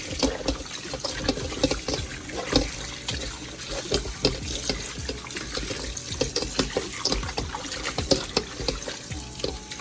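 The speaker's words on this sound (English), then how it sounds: "Just run it off in the sink, and then I give it another little wash here." Turkey wings are rinsed in a kitchen sink under a running tap, giving a continuous close rush of water with irregular splashes and trickles as the meat is turned.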